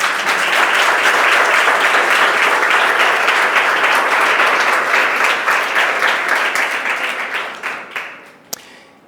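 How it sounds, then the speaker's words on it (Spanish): A church congregation breaks into loud, sustained applause that thins out and fades toward the end, with a few last scattered claps. "Un fuerte aplauso al Señor"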